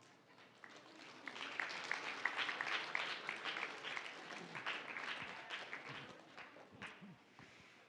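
Applause at a high school National Honor Society induction ceremony, as the audience stands and claps for parents, a fairly faint, rising and falling wash of many hands with a few louder individual claps.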